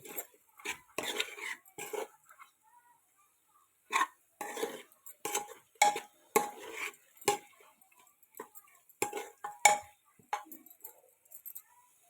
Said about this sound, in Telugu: ఒక స్పూన్ గరం మసాలా, కారం వేసాక ఇదంతా కలుపుకోవాలి.